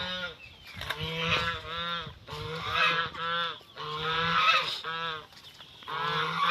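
Farm geese kept in rural Isan, Thailand, give loud, close, repeated nasal honks in overlapping bursts and alone, with no talk.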